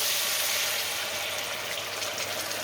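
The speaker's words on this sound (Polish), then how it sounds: "Tu już nam zaczyna z powrotem się smażyć, to jest dobry znak." Chicken thighs with spinach sizzle and fry steadily in a pan on a gas stove after liquid has been poured in, a continuous close hissing with no talk.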